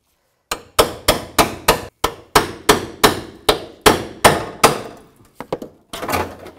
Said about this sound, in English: So I'm just going to use the chisel.